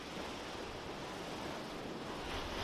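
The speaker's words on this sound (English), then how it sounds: "The waves like crashing and stuff, and seagulls and birds." Continuous broadband roar of ocean surf washing in at Scarborough, heard close with some wind buffeting; no voices.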